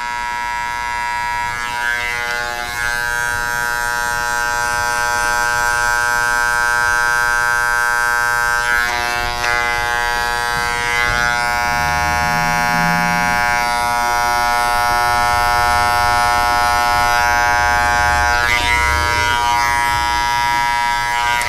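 Electric razor buzzing steadily and loudly at close range while cutting a taper fade at a barber's chair, a continuous high-pitched hum that runs throughout with slight shifts as the blade moves over the head.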